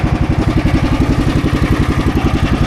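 A boat engine idling while it is being tuned, running loud and close as a steady, rhythmic chugging with evenly spaced pulses throughout. No one speaks.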